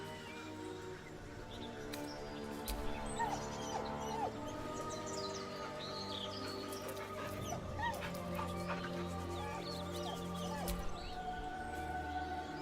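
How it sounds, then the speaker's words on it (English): A dog in the Baldur's Gate III video game whines and whimpers in soft, broken yips over a quiet ambient game backdrop with faint birdsong, the cries recurring unevenly throughout. "With a deep, heartbroken whine, The dog bows his head."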